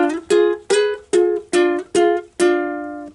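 Ukulele picking the intro of a theme from SpongeBob SquarePants, six clear plucked notes in a bouncy rhythm, close and alone, the last one ringing longer.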